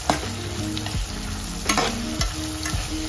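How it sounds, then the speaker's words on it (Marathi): Chopped onion frying in oil in a pan for a Marathi spiced masoor curry, a constant sizzle broken by a few scraping stirs of a spoon against the pan, close and clear with no voices. "तर त्यासाठी आपल्याला 2 ते 3 मिनिटं असा फ्राय करून घ्यायचा आपला कांदा, गोल्डन ब्राऊन करून घ्यायचा।"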